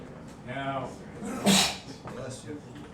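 A person sneezes once, loud and sharp, in a classroom during a programming lecture, with people talking quietly before and after it.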